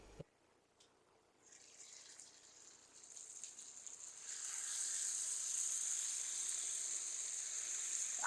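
Potatoes, peas and tomatoes frying in a pan for a masala fish curry, a soft sizzle that swells from quiet to a steady, loud hiss and holds there, with no talking.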